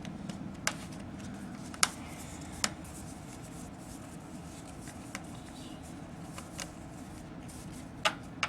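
Syllable cards being handled and shuffled on a table: soft steady rustling with scattered sharp flicks and taps, close and fairly quiet, no talking.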